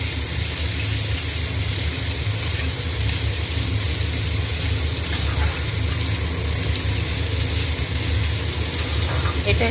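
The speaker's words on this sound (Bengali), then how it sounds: "পেঁয়াজটা এবার ভাজা ভাজা হয়ে গেছে" Sliced onions frying in a pan for a raw mango chicken dish, a steady dense sizzle and crackle that runs unbroken and fairly loud throughout.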